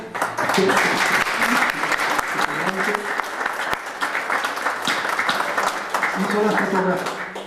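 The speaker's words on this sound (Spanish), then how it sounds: "un aplauso para él" Audience applause for a young boy who made the drawings for a book, heard at a book presentation: dense, loud clapping throughout, with voices talking over it.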